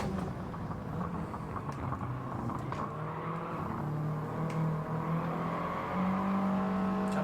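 Race car engines in the Gran Turismo 7 racing game drone and whir at a moderate level. The pitch shifts through gear changes, with one rising note near the end. No one talks.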